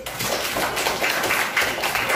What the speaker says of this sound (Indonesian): Tepuk tangan untuk Dennis.